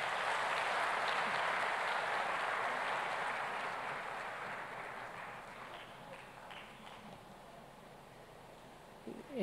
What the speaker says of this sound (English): let's give them a fantastic round of applause.